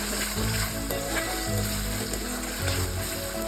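Spices sizzle in hot oil for a tempering while cooking a spicy stuffed okra dish, a loud continuous frying crackle with small popping bursts and no talk.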